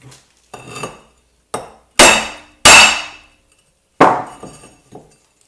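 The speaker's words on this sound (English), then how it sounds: "now that we finished knocking out the opposing wheel studs on the front and back hub" A hammer knocks an opposing wheel stud out of a Subaru hub, with six or so loud, ringing metallic blows at irregular intervals, each decaying with a bright clang, close up and without talk.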